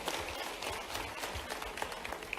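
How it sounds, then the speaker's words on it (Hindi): Audience at a live youth self-employment dialogue event applauding, a dense, steady wash of many hands clapping at moderate distance, continuous for the whole stretch with no talk over it. "जोरदार ताली बजाओ इनके लिए"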